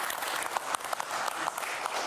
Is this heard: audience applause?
yes